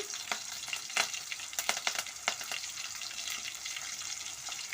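Chopped onion and curry leaves fry in oil in a pan for a brinjal curry, a steady close sizzle with scattered crackles and sharp pops throughout, no talking.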